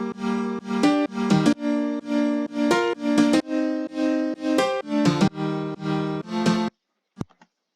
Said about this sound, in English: just a quiet piano that sounds something like this.